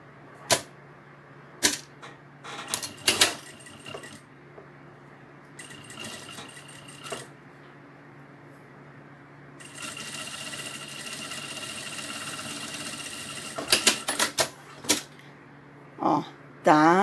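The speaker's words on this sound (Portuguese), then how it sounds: "Da mesma coisa, eu vou costurar aqui." A sewing machine stitches a fabric vaccination card cover, a long steady whirring run in the middle framed by short bursts, knocks and handling clatter nearby.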